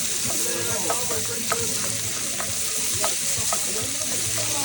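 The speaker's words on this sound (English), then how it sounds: "Meat is seared up pretty good." Meat for Irish stew sears in a hot pan outdoors, a loud steady sizzle with scattered sharp pops and crackles, dense and close throughout.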